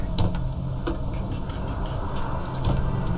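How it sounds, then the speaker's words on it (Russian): A car engine in the video game Hello Neighbor 2 drones steadily with a low, humming rumble and faint intermittent knocks, fairly loud and continuous with no speech over it. "Моя машина."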